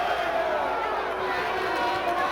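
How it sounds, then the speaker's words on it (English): A college wrestling dual-meet crowd between Missouri and Northern Iowa roars steadily in an arena, a dense, sustained wash of cheering and shouting with no breaks. "Now the crowd really getting on."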